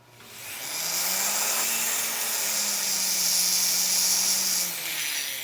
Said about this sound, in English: You could use something like the barrel burr,